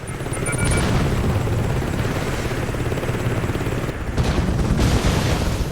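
An enemy helicopter attacking in the video game Saints Row 2, its steady heavy rotor thrum filling the scene alongside booming hits and bursts of gunfire, loud and continuous with no talking.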